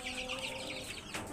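Native hill chickens from the Chittagong Hill Tracts clucking faintly at a farm, a short soft stretch of fowl sounds over a low, steady background.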